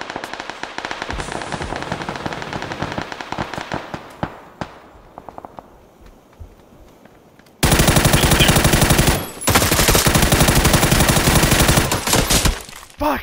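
Gunfire in PUBG: dense, rapid automatic shots crackle loudly for several seconds, die down to scattered pops, then return as a sustained, very loud roaring burst with no talk.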